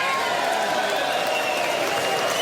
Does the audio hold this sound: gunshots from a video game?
no